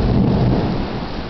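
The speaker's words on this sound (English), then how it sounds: "Major thunderstorms." A heavy thunderstorm roars close by, with a deep rumble of thunder blending into dense, steady rain hiss throughout.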